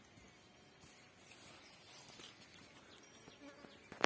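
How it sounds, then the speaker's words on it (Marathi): Honey bees buzz steadily around flowering plants on a farm field boundary, a soft, continuous outdoor hum of many insects at moderate distance with no talking. "बघा आगी मोहरची मधमाशी आहे"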